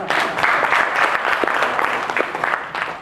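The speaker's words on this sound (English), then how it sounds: "Can we give him a round of applause?" A lecture audience applauds a student, a dense continuous wash of many hands clapping at moderate loudness for about three seconds with no clear gaps.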